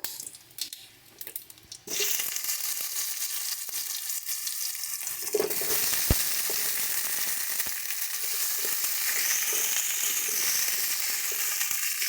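Pumpkin pieces frying in hot oil with whole spices, a steady broadband sizzle that jumps louder as the pieces are added and continues unbroken, with occasional stirring knocks.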